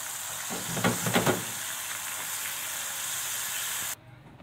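Bolti fish dropping into strained hot oil, giving a steady close sizzle and hiss with a brief burst of louder crackles near the start, then an abrupt cut to quiet.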